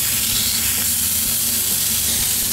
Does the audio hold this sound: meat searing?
yes